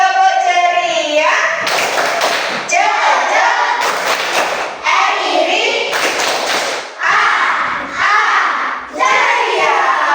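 A class of third-grade children performs a rhythmic clapping chant in a classroom, sharp bursts of hand claps alternating with loud group chanting in a repeating pattern, close and energetic throughout.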